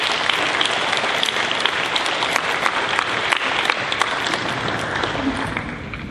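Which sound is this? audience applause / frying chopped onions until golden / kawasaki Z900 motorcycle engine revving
audience applause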